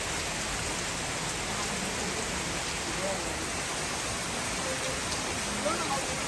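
Heavy rain pours down steadily in Bora Bora, a dense, even hiss that never lets up.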